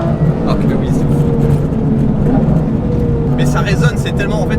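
A Porsche GT3 fitted with a new exhaust, revving with a loud, steady, high-pitched resonant drone heard close up, with people talking over it.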